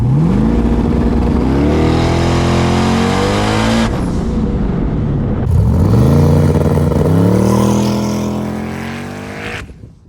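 A car engine under a fuel pressure and boost test, loud and close, revving up in long rising pulls through the gears, with a drop between the surges before it finally fades.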